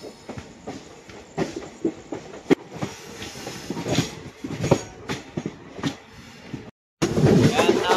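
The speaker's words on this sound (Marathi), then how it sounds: "enjoy the night train journey from Dadar to Ahilyanagar" The 11041 Dadar Shirdi Sai Nagar Express runs at night, its wheels clattering with rhythmic clicks and rumbles, heard close from inside the carriage with voices talking beneath, then a brief gap and louder rushing noise.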